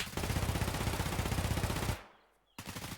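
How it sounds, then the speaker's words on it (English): Sustained automatic gunfire in the competitive shooter Pinnacle, a dense rapid stream of shots for about two seconds, then a sharp cutoff into near silence before firing resumes. "putting a ton of bullets downfield"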